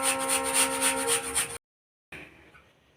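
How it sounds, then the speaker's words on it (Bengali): Jaggery rasped against a metal grater in a home kitchen, with steady rough rubbing strokes up close, then a brief silence before quieter, lighter scraping resumes. "তো এবার এই গুড়টাকে গ্রেট করে নিচ্ছি, আর এই যে গ্রেটারটা দিয়ে যাতে তাড়াতাড়ি মেল্ট হয়।"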